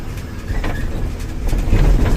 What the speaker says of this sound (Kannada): ರೈಲ್ವೆ ಸ್ಟೇಷನ್ ಗೂಡ್ ಸೆಟ್ ಗಾಡಿಗಳು ನೋಡಿ ಸ್ವಾಮಿ